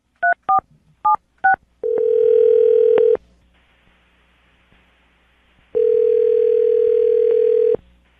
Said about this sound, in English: Dial the phone number right now.